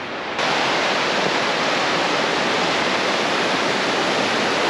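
Waterfall near Bariloche, Argentina, roaring steadily and loudly as a dense broadband rush of falling water, unbroken from just after the start to the end with no voices.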